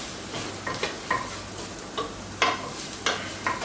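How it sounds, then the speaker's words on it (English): A spoon scrapes and stirs food frying in a pan while ratatouille cooks, with a steady sizzle underneath and a series of distinct scraping strokes repeating about every half second. "don't forget to stir."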